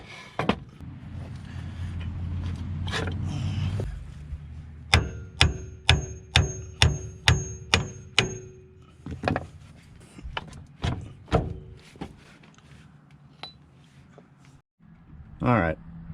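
Steady metallic hammering on a third-gen Dodge Cummins axle while an adjustable control arm goes in, a run of about eight sharp evenly spaced strikes mid-clip among scattered clanks and knocks, with a low background rumble.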